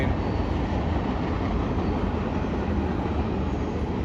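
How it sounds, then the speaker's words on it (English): A train rumbles past a riverside walkway at dusk, a steady loud roar of wheels and cars that fills the whole stretch without pause. "this train goes all the way down."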